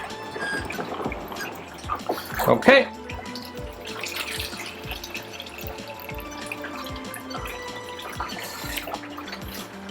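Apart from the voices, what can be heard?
rinse water pouring from developing drum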